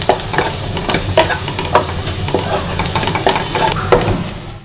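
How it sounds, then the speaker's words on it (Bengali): Onions frying in oil in a pan after chillies were cooked, a loud close sizzle broken by regular stirring scrapes roughly every half second. "পেঁয়াজটা একটু ভেজে নিব।"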